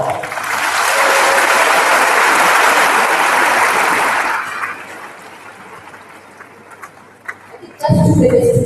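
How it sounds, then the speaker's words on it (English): Loud applause from a leadership congress audience thanking a Senator, sustained for about four seconds before tapering to a quieter room murmur, then a sudden burst of noise at the end. "shall we give her a round of applause as well?"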